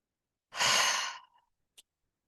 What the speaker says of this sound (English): Take a few take a few deep breaths in and out.